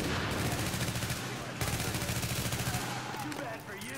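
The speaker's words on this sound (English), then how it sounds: "I'm gonna shoot him first" Rapid gunfire in The Division video game, dense bursts of repeated shots in a steady automatic rhythm, loud and close, pausing briefly before resuming, with no talk.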